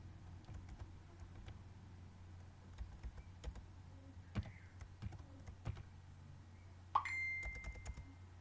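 Quiet, close keystrokes on a computer keyboard tap out a full name in Bengali in irregular bursts, with a faint chime near the end.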